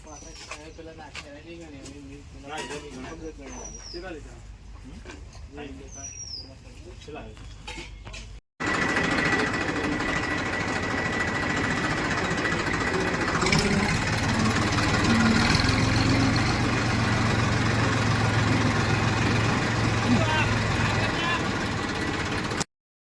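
A tractor engine runs as a loud, steady, close drone that starts abruptly after a quieter stretch of voices and bird chirps, then holds without a break until it cuts off at the end.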